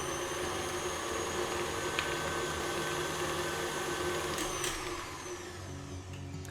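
An electric mixer running on high speed through butter cookie dough, a loud steady motor whir with a bowl-scraping rattle, easing slightly in level near the end, no talk.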